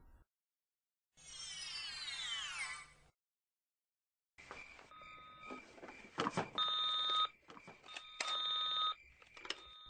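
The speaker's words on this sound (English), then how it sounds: "The phone is ringing." A telephone bell rings in bursts inside a living room, first a sustained electronic trill, then after a pause a series of loud repeated rings with clattering handling noise, no talking.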